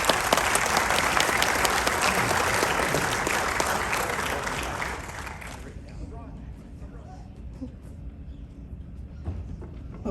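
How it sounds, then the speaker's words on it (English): Applause from a crowd at a high school athletic awards ceremony, dense and loud for about five seconds before thinning to a softer patter, with some voices beneath it. "Give them applause."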